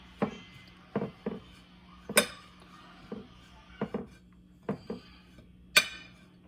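A utensil mixing bread crumbs, Italian cheese and seasoning in a bowl for chicken parmesan, a series of sharp, separate clinks and taps against the bowl in a quiet room.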